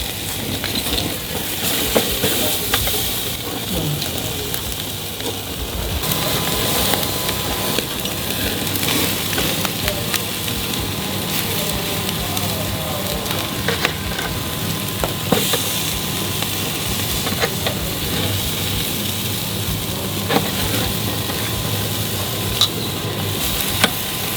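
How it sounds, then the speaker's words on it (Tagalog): Pork liver grilling for kilawin, a steady close sizzle and frying crackle running throughout with occasional stirring and scraping clicks, no talking. "i-grill na rin natin itong ating atay"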